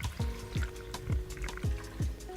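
Water is poured slowly into a bowl of cornstarch, a quiet liquid glugging that comes in five or six regular pulses about half a second apart, close by.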